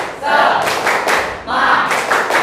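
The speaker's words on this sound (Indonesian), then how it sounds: "Tepuk semangat." A high school physics class performs a rhythmic spirit clap, loud clustered bursts of hand claps in a repeating pattern with brief pauses between groups, close and energetic.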